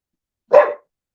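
A dog gives a single sharp bark, loud and close, alone in silence.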